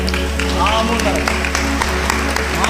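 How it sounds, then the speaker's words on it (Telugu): A church congregation at a healing service claps loudly in sharp, irregular bursts under a voice speaking over a constant low hum of amplification. "చప్పట్లు కొట్టండి గట్టిగా."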